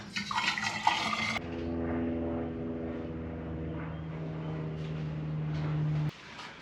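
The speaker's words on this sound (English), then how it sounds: "And I have this newly boiled water." Newly boiled water is poured in a motel room on an Australian road trip, a bright splashing rush at first, then a steady filling tone that slowly rises in pitch before stopping abruptly.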